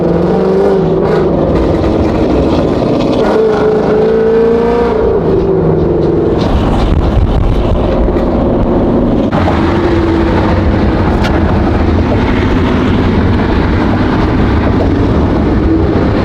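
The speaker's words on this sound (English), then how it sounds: "This catalyst Mustang in front of me is freaking loud." A loud Ford Mustang engine roars and revs continuously, its throaty rumble steady and close with no talking.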